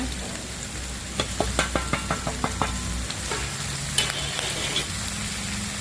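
Winter melon and pork belly stir-fry in a pan: a steady sizzle with a quick run of sharp, rhythmic spatula clacks against the pan, then a softer, continuous frying hiss.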